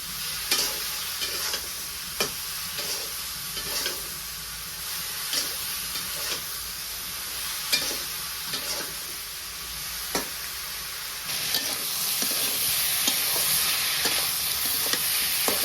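A ground spice paste with coriander leaves sizzles in a pan with onion curry as a spoon scrapes and stirs it in a steady rhythm of regular strokes over continuous frying hiss.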